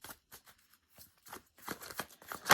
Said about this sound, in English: Let me just do a quick shuffle for the collective Aquarius message.